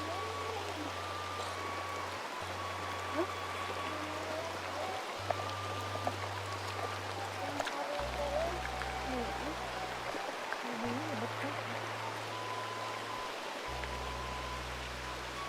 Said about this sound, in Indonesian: Insyaallah hujan sahabat, hujannya deras.